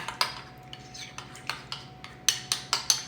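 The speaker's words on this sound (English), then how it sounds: "I'm going to mix it into my bowl and then add in the half a cup into my batter" Spoon or whisk clinks against a mixing bowl as Greek yogurt and fruit are stirred together for banana cake batter, a run of sharp, close taps with a brief pause, no talking.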